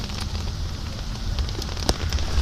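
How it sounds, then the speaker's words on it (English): Rain falls outdoors in a steady, close patter with scattered sharper drops and light crackling over a low rumble of wind, and no talking. "Oh, it's raining."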